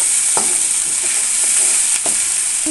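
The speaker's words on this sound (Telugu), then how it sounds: "అల్లం వెల్లుల్లి పేస్ట్ కొని ఒక 5 నిమిషాల వరకు ఫ్రై చేసుకోండి" Ginger-garlic paste frying in a pan for a bottle gourd and dried fish curry, giving a loud, constant hiss of hot oil with a few sharp scrapes of a spatula close by.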